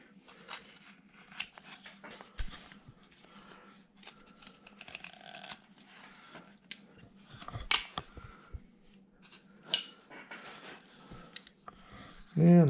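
Scraping and cutting strokes from a hand tool carving the nose of a Civil War sculpted bust, a steady run of short, close, dry scratches and taps with occasional louder hits, under light talk.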